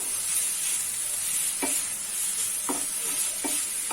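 Chicken filling for crepe rolls is stirred in a hot pan, a steady bright sizzle broken by three or four soft scraping strokes of the spoon, close and continuous, with no talk.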